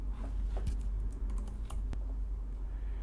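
Keys clatter on a computer keyboard in a burst of quick, uneven taps, close and fairly quiet over a steady low room hum, with no talking.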